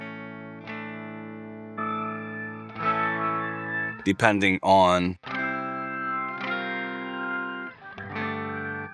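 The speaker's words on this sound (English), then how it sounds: "this has all sorts of different synth sounds, and they are polyphonic, so you can play chords" A guitar pedal plays polyphonic synth chords as sustained, shimmering tones that change from one chord to the next. Someone speaks briefly in the middle, between the chords.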